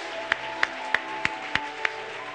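A church congregation claps together in praise during worship, six sharp claps in an even, steady rhythm over a low, murmuring room background.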